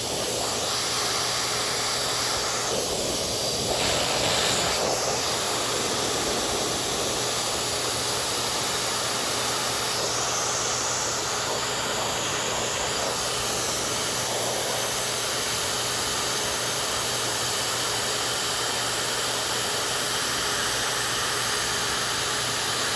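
A high-powered dryer blasts a show dog's coat with a loud, constant rushing whoosh of air, briefly shifting in tone as the nozzle moves across the chest and skirt, with no talking.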